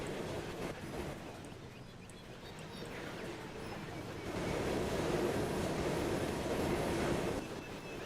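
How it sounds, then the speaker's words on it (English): A coal train on a railway rolls past in a continuous, rushing broadband roar that holds steady and then swells louder midway, with no voices. "it's straight up recorded off of coal trains here in my home place"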